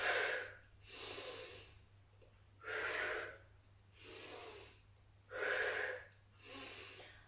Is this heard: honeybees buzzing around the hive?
no